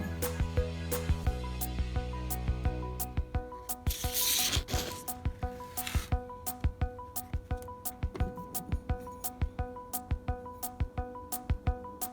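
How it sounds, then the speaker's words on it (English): A knife blade is hand sanded to a 220 grit finish, with steady rubbing strokes at first that give way to a long run of sharp, rhythmic scraping passes, close and fairly quiet. "I'm gonna hand sand this thing to a 220 grit finish, then to 400 grit"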